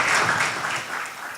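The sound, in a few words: congregation applauding a family in church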